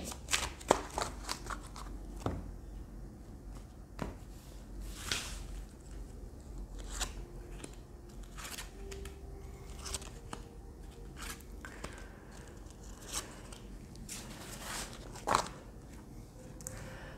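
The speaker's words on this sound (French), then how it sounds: "on va prendre des cartes des arcanes lunaires" Tarot cards of the lunar arcana being shuffled by hand, a soft, close series of irregular riffling snaps and slaps repeating every second or two over a quiet background, with no talking.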